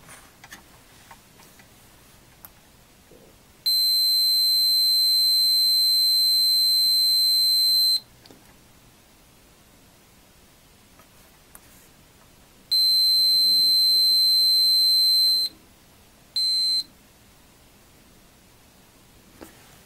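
A multimeter beeps during a diode check on an old Atari Super Breakout arcade board: two long steady tones a few seconds each, then a short blip, clear and close over faint background hiss.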